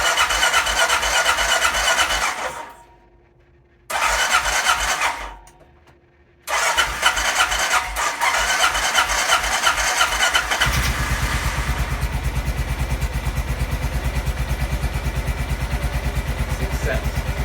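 A 2003 Honda Rincon ATV engine cranks twice with brief pauses, then catches and runs steadily on choke, a loud, close, rough idle continuing to the end.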